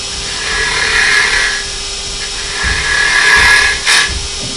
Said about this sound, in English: I have to take a little bit of the bottom out